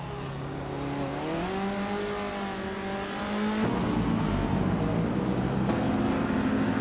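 A 1964 Porsche 901 race car in a racing game drones with a steady, rising engine note that climbs through the gears, then shifts into a rougher, louder roar midway, continuous and close with no talk.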